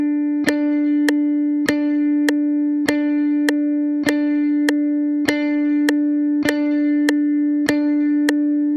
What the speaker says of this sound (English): Level 2, half notes. These notes last for 2 beats in total.